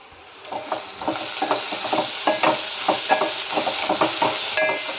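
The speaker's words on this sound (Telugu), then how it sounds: "మెంతం కూర, జీలకర్ర, కరివేపాకు వేసి దోరగా వేయించుతున్నానండి" A spoon scrapes and clinks rhythmically in a pan while fenugreek leaves, cumin seeds and curry leaves sizzle in hot oil, tempering for an amaranth-leaf curry. The stirring is close and steady under a continuous soft frying hiss.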